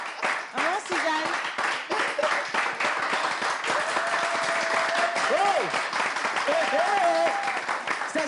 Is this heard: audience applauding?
yes